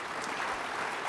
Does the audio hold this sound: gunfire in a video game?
no